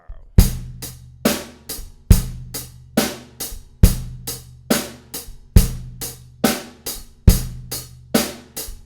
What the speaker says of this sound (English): I'm going to start with the groove, 3 bars, 1 bar of the fill, crash when we come back.